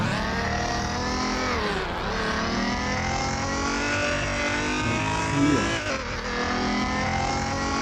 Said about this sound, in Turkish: Duruşunu deneyelim bakalım. 180'de giderken.